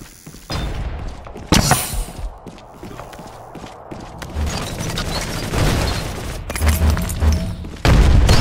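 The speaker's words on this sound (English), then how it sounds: "Heads down, grenade out." Grenade blasts in the first-person shooter Ballistic OverKill: two sharp, loud explosive bursts, one early and one near the end, over continuous gunfire, footsteps and game noise.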